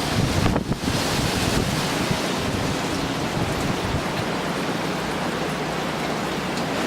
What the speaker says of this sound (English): Wind is coming from that direction right now. And it's getting a little bit nasty.